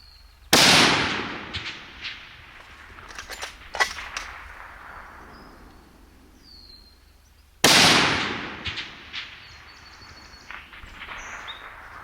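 Two sharp, loud rifle shots ring out at a 640-yard outdoor range about seven seconds apart, each followed by a long, decaying echo rolling across open ground, with faint birdsong in between.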